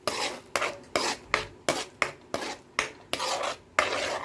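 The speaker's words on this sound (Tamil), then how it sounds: "இது நல்லா கிளறி விட்டுக்கலாம்." Egg masala with fresh cream is stirred in a pan, giving about ten regular scraping strokes of a spoon against the metal, close and distinct with no talking.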